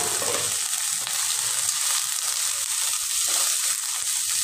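Carrots and tomatoes with onion and capsicum fry in a pan for veg Manchurian, a steady close hissing sizzle with faint stirring scrapes, loud and continuous, without talk.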